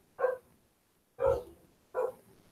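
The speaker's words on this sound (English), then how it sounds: "my dog barking." A dog barks three times, with loud, close, evenly spaced woofs in a quiet room and no talk.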